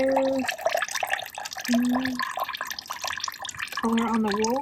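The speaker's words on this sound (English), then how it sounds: "We are straining the privet leaves." Water splashes and drips as privet leaves are strained from a dye bath, a steady close liquid trickle with people talking over it at moments.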